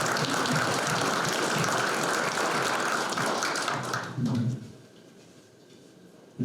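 Audience at an awards breakfast applauding, dense steady clapping that holds for about four seconds, then fades quickly to a quiet room.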